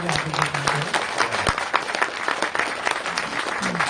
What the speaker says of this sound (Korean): 여러분 박수 한번 보내주실까요?